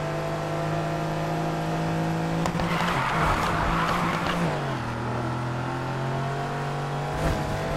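In the Need for Speed Heat racing game, a car makes a handbrake turn. A loud engine drone is joined by a sustained tire squeal and skid mid-turn, then the engine pitch drops and it revs on. No one speaks.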